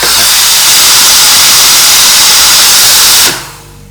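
The steam wand of a La Marzocco GS3 espresso machine releases a loud, steady hiss at close range for about three seconds, then is cut off abruptly, leaving a faint low hum.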